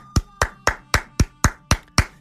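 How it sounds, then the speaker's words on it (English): A single person clapping in a steady rhythm, eight sharp claps about a quarter second apart, close and fairly loud against a quiet background, offered as applause for first responders. "how about a little round of applause for the first responders?"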